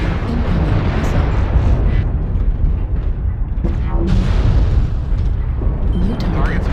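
Heavy explosions from incoming missiles rumble through a MechWarrior Online battle, with deep overlapping booms and blasts layered continuously over loud mech combat noise and the game's voice alerts.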